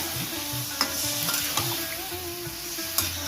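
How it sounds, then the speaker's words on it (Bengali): Spiced masala for a cauliflower and prawn curry sizzles and fries steadily in a pan, with soft stirring scrapes and a few sharp clinks of a utensil against the pot. "আমি এবার একটু জল দেবো।"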